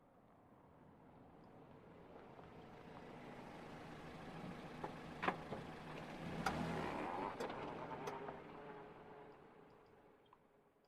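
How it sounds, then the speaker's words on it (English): A car approaches in an old radio drama, its faint engine hum swelling gradually to a peak with a few clanks and rattles, then receding. No one speaks. "There's a car coming."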